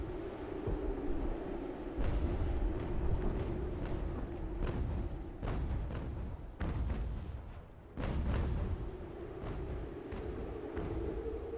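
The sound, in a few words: cannon artillery fire in Ultimate General: American Revolution video game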